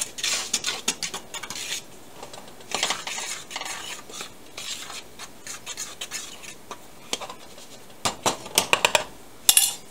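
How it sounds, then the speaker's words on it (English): A fork stirs salt, sugar and flour together in a bowl for homemade basic bread, making quick scraping and clinking bursts against the bowl in irregular runs, close and fairly loud, with short pauses between. "I'm going to grab my fork and I'm just going to move this salt, sugar, and flour mixture around"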